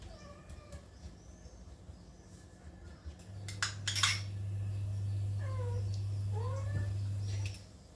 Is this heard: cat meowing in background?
yes